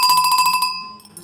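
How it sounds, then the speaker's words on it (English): A household dinner bell rung by hand gives a quick series of bright metallic strikes that ring out loudly, then a sustained ringing tone that slowly fades, heard alone. "This is the bell."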